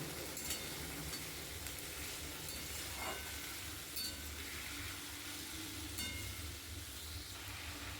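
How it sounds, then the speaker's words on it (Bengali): Vegetables, including small pieces of potato, fry in white oil with a steady, quiet sizzle and occasional faint stirring clicks, with no talking. "এইগুলো একে একে সাদা তেলে আমি সমস্তগুলো ফ্রাই করে নেব"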